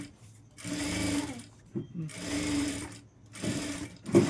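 A sewing machine runs in three close, whirring bursts with short pauses between them, stitching a double seam on a princess-cut boat-neck blouse.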